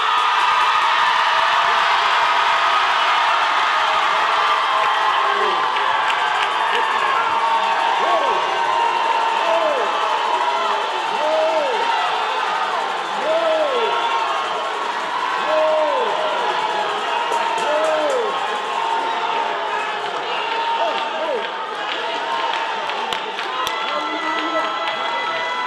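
A large audience at a church workers conference screams and cheers continuously in a loud, sustained roar, with whoops and shouts rising throughout.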